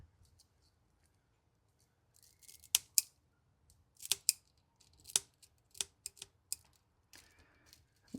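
A hose for a 5th-gen Toyota 4Runner oil catch can is snipped with a cutter in a quiet garage, several sharp close clicks and crunches arriving in an irregular cluster after a few silent seconds.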